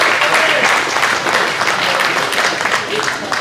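Audience at a high school football quarterback club luncheon applauding to welcome coach J.T. Curtis of John Curtis Christian, a loud, steady wash of clapping from a large crowd throughout.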